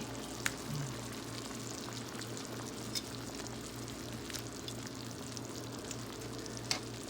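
Shrimp with ginger being stirred and turned in a pan for a baked glass noodle dish, giving a soft continuous sizzle with scattered scraping taps, fairly quiet and without speech.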